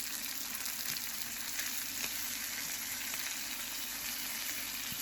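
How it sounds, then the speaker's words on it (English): A big beef sirloin steak fries in a pan with a constant, fine crackling sizzle, fairly quiet and steady with no voices over it. "Look at that sizzle."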